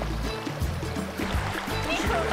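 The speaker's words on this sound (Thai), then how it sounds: "เวลาเดินมันก็จะได้ยินเสียงน้ำไหลแบบนี้" A natural stream flows and trickles steadily nearby, a continuous watery babble heard close up, with faint footsteps or movement in the water.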